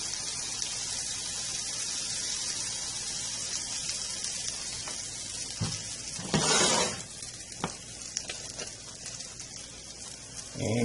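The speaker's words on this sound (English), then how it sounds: "we're going to put our batter in the skillet, and you can hear that sizzling" Corn batter frying in coconut oil in a skillet, a steady broadband sizzle running throughout with a brief louder hiss near the middle as more batter hits the hot oil, close and alone without talk.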